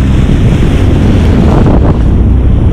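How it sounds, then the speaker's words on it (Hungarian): Ocean waves surge and roar loudly and continuously at close range, with heavy wind buffeting the microphone from a jet ski out at sea. "Arra nézz, ekkora hullám jön."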